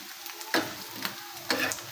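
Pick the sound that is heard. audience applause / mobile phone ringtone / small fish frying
small fish frying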